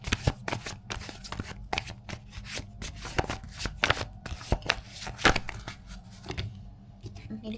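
Tarot cards being shuffled by hand, a quick run of crisp riffling flicks and soft slaps repeating close up for several seconds, with one card slipping loose near the end.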